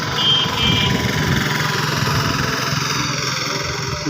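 An ambulance's engine runs at a steady idle close by, a continuous low rumbling drone with slight vibration throughout and no talking.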